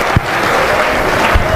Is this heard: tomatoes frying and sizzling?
no